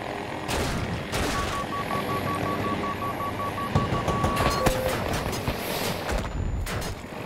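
Battlefield 2042 gunfire rattles in dense, sustained bursts with loud crackling shots and a mix of game effects and beeps, continuous and close throughout.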